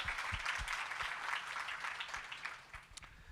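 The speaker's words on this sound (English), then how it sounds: "And this applause goes to Mr. Firuz Partovi." Audience applause at a PTN November 2025 event, steady and fairly distant, with scattered sharper claps standing out near the end and no talk over it.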